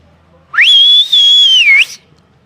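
A performer whistles through his nose with a finger pressed into it, producing one loud, sustained high-pitched note that swoops up at the start, holds with a slight wavering dip and breaks off, alone against near silence.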